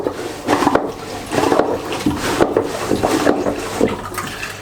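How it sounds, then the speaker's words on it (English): Blue Lagoon 40 toilet pumping water in and out at once, a close, steady sloshing and gurgling flow with rhythmic pulses of the pump churning water through the bowl, heard alone without speech. "When it is switched this way, it will pump water in and out at the same time."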